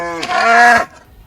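A cow in the Minecraft video game gives a single short moo, close and loud, with a rising then falling tone lasting under a second, followed by quiet.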